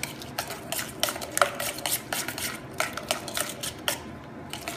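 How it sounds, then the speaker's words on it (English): Lobster roll dressing being mixed in a bowl, a quick irregular run of clicking, scraping utensil strokes against the bowl, close and moderately quiet with no speech. "Let's go ahead and get this whole thing mixed."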